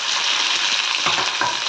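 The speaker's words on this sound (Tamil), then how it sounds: "நல்லா எண்ணெயில் நல்லா வதக்கிக்கலாங்க" Chopped onions and garlic sizzle briskly in hot oil in a pan, a steady close crackle with a few soft stirring scrapes.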